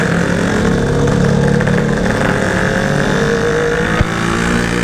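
A Yamaha RX King two-stroke motorcycle engine, freshly fitted with an upgraded carburettor, idles steadily and loudly up close with a continuous buzzing drone and a brief sharp tick near the end, no voices.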